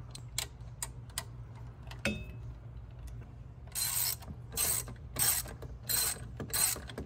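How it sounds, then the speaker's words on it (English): Ratchet clicking on 10mm bolts securing the fuel pump bracket of a Ford Mustang EcoBoost S550 during a head gasket job: scattered ticks at first, then several bursts of rapid ratcheting up close, with no talk. "Now we have a 10mm bolt on the bracket right here. You gotta go ahead and take that one off."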